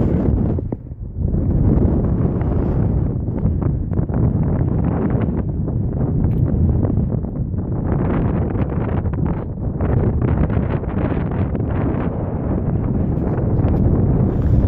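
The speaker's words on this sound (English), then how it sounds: "It's windy" Steady, heavy wind roars and buffets the microphone throughout on a cool, windy day outdoors, loud and continuous with no voices.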